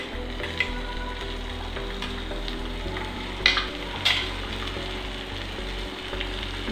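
Ingredients for rava idli, including ginger, chilli and asafoetida, stirred in a pan, a soft steady sizzle with a few sharp spoon clinks against the metal, no talking.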